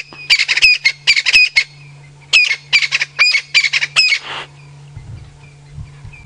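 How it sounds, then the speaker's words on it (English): Crested francolins on an evening safari drive give loud, harsh squawking calls in several rapid bursts of repeated notes over about four seconds, with a low steady engine hum underneath and quieter rustling at the end. "That's those crested franklins calling."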